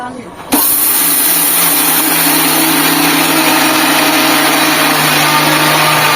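A mixer grinder whirs loudly and continuously as it grinds mustard seeds for mango pickle, starting abruptly after a moment of quieter sound, with voices talking over the steady motor drone.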